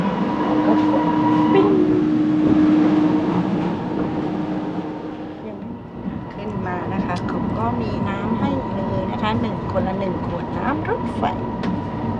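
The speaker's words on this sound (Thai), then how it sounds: "รถไฟเคลื่อนขบวนออกจากชานชลาแล้วนะคะ" A train rumbles and clatters steadily as it pulls away from a station platform, with a drawn-out tonal whine early on and people talking nearby over the rolling noise.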